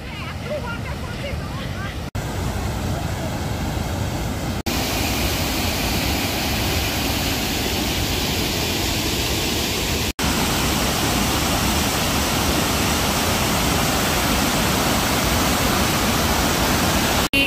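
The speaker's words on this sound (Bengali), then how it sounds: "আবার ড্যামে একটা জল ছেড়েছে, এই দেখো এই পাশটা থেকে। হ্যাঁ, ওয়াটারফলস হয়ে যাবে" Water released from a dam pours down like a waterfall, a loud, steady broadband roar that continues without a break throughout, with a few brief cut-outs in the recording.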